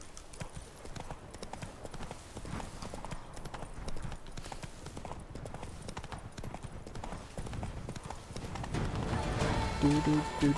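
Roach, the horse in The Witcher 3: Wild Hunt, gallops with fast, continuous hoofbeats at close range, growing louder toward the end as other game sounds join in.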